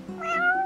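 A cat meows once in Final Fantasy XV, a single drawn-out, rising-then-falling call lasting under a second, fairly close and clear over a low game hum.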